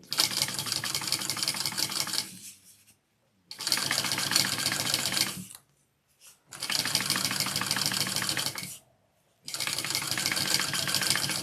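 Sewing machine top stitching canvas for a mini backpack, running in four steady bursts of rapid stitching about two seconds each, with short silent pauses between, fairly close and alone.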